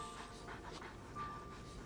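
A dog pants in Genshin Impact with soft, quick, rhythmic breaths. The sound is faint and close, over a quiet game backdrop with no talk.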